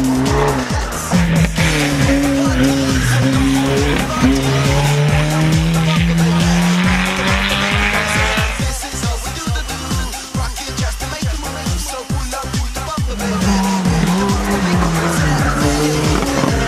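A Volkswagen Scirocco rally car at a hill-climb event roars close, its engine rising and falling through gear changes, with long tire squeals and skids running almost throughout.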